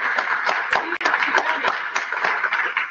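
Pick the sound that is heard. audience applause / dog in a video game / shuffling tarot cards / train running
audience applause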